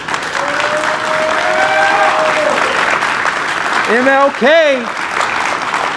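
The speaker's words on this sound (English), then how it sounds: "I want to hear the building shake from a round of applause for your design that you created." Loud sustained applause from a crowd celebrating a building design unveiling, filling the space with a dense wash of clapping while a voice speaks and calls out over it.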